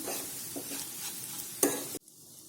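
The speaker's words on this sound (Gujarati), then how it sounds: "અને ફરી આપણે એકવાર મિક્સ કરી લઈશું." Spiny gourd curry with spices and lemon juice is stirred in a pan, a soft close scraping with gentle sizzle and a sharper clack before the sound cuts off abruptly, no speech.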